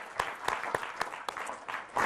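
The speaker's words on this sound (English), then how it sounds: "So I just want to clap my hands for all of you." An audience applauds steadily during a university talk on the Peace Corps, a brisk, even patter of many hands clapping in a room, continuous and fairly loud throughout with no voices over it.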